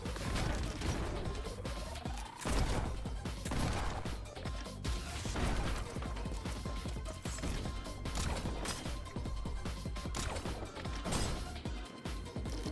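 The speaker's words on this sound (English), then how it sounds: "Do it all with the shotgun." Dense, rapid bursts of shotgun blasts and clanking weapon mechanics from the fast-paced video game Neon White, loud and continuous with layered impacts and game effects, no pause.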